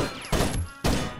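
Gunfire from the original Rainbow Six video game: two dense bursts of automatic fire, each about half a second long, loud and close, separated by a brief gap.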